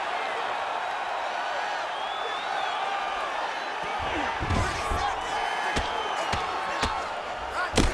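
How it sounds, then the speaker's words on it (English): Arena crowd at a UFC heavyweight bout reacting to landed punches, a constant murmur swelling into bursts of noise with sharp slaps and thuds, under a commentator's talk. "the crowd continues to react with every passing land"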